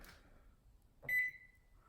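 A single short electronic beep sounds from an Oster microwave as its power button is pressed, clear and close against a quiet room.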